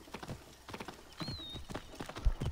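Horse hooves clip-clopping at a steady riding gait in Assassin's Creed Origins, close and moderately loud, with a brief whinny-like tone and a soft thud near the end.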